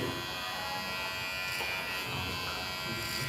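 An electric hair clipper buzzes steadily and close while cutting hair for a side part, a continuous even drone with slight texture changes and no voices.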